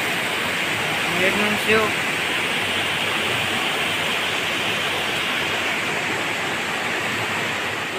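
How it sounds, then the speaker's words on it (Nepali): Steady rain pours over Darchula, Nepal, in fog, a dense, even hiss that runs unbroken from start to finish, with a voice speaking briefly near the beginning. "आज 1:50 दार्चुलामा पानी परिरहेको छ"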